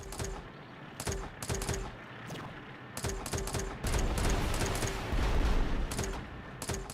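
Enemy tanks in the video game Retro Tanks fire in rapid bursts of sharp, loud shots, clustered volleys repeating every second or so over a rumbling battle bed, with no talk.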